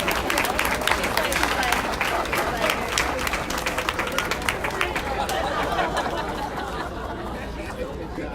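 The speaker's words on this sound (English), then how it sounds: "let's have one more round of applause for our wonderful recipients." Lively audience applause for award recipients at a community breakfast, loud dense clapping mixed with crowd chatter and murmuring voices, gradually thinning and softening toward the end.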